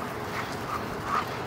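Playing dogs and puppies let out brief whimpering yips and low grumbles during rough wrestling, soft and somewhat distant amid steady background noise.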